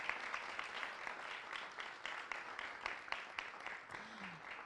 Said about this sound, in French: Et notre Ouidza national, Mérisier Payen, on l'applaudit,